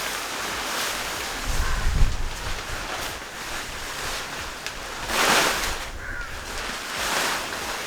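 Strong outdoor wind buffets the microphone in steady gusts while a camping tent is being set up, rising into louder rushes at a couple of points, with no voices.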